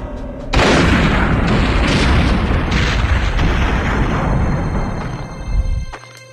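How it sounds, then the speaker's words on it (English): Autoguns shot apart and exploding in the video game Perfect Dark, a loud, sustained roar of booming blasts and crackling bursts lasting several seconds before cutting off abruptly. "we're going to shoot one autogun. Going to shoot another autogun"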